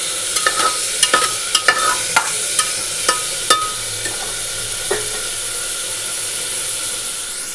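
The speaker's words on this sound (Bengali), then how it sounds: "তো হয়ে গেছে ভাজা" Stirring in a hot pan on a home kitchen stove, frying done with sharp scrapes and taps of a spatula in the first few seconds over a steady sizzle, then fading to a constant hiss.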